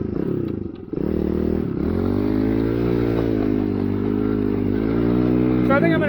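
A Kawasaki KLX110 minibike fitted with a Timbersled snowbike kit revs hard and steadily close by, its engine note climbing and holding loud for several seconds after a brief dip.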